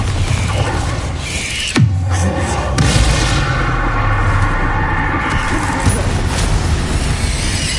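In a Hogwarts wizarding video game, the Bombarda blasting spell goes off with a sudden loud burst, followed by a second impact and rumbling debris amid dense, continuous combat noise.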